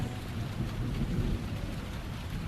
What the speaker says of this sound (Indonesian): hujan mulai turun